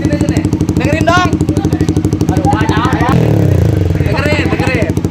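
A motorcycle fitted with a loud modified exhaust revs in rough, repeated bursts close by, its throbbing engine note rising and falling while people talk over it.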